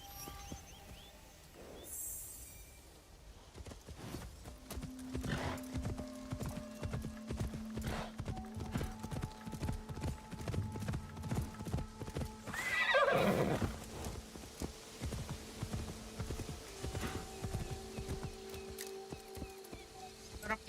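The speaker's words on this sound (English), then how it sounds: "Still got the same horse footsteps sound from the previous game." Horse hooves clip-clop in a steady trotting rhythm in the video game Assassin's Creed Shadows, loud and close, with an occasional whinny and some background game ambience.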